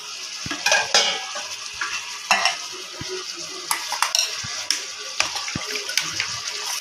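Paneer pieces drop into a pan of boiled potatoes, setting off a steady sizzle broken by repeated scraping stirs and sharp clinks of a spoon against the pan, close and fairly loud, with no talking.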